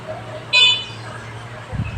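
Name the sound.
car horn honking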